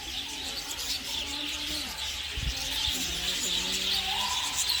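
Budgerigars and other small birds in a zoo aviary chirp and twitter continuously in a dense, fairly loud chorus, with a few low thumps partway through.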